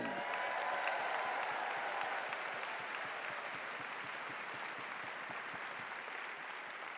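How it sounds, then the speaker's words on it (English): Sustained audience applause honoring soldiers, sailors and Marines, a dense even wash of many hands clapping that holds steady throughout, with a faint voice at the very start. "let us applaud them all!"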